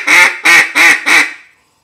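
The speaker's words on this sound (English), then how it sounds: "So that's the simple quack." Four raspy quacks blown on a handheld duck call, loud and close, evenly spaced in a quick descending run, then silence.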